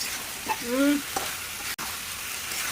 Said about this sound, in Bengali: ভালো করে মশলার সাথে মিশিয়ে দেবো।